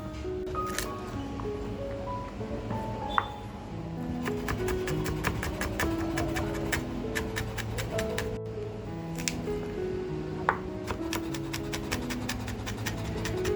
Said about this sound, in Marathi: लसूण जी घेतली आहे ती बारीक चिरून घ्यायची आपल्याला.